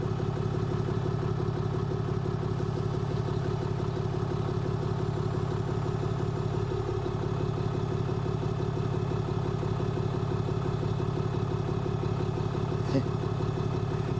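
An Emuk Airlift air cushion inflating under a van, heard as a steady droning hum with a fast rhythmic pulse that holds unchanged throughout.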